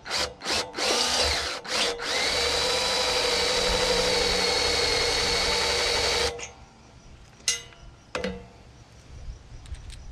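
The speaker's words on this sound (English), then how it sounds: "Let's drill this out to fit a bolt." A power drill whines steadily through sawmill material, drilling a hole for a bolt, for several seconds after a few brief bursts, then stops, leaving faint clicks and handling noise.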